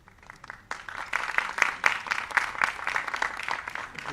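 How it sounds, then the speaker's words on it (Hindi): Audience applause at a formal award ceremony hall, steady dense clapping that swells after a quiet start and holds at moderate distance without speech. "ताली जब बज रही थी"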